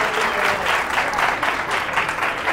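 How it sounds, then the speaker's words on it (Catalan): Studio audience applause on a Catalan TV word game show, steady dense clapping filling the whole moment at close range with no talk over it. "amb aquest aplaudiment"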